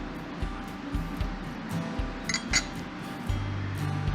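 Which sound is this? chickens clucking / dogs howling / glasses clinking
glasses clinking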